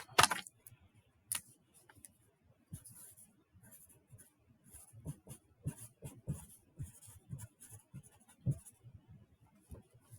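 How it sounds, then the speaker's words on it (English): Pen or marker writing on a folded paper flap, a run of short scratchy strokes and taps close by, fairly quiet, with brief pauses between words and no talking. "I'm also just going to write it on the screen so you can see it."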